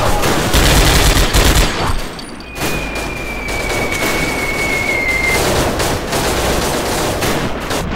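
Loud bursts of rapid gunfire and explosions with tank and mortar fire in Commandos Strike Force dominate at first, then settle into steady battle noise with a long whistling tone passing through.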